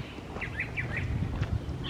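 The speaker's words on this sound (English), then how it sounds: "I was listening to the birds," Faint bird chirps repeat over steady outdoor background noise, a few short calls spaced across the clip with no talking.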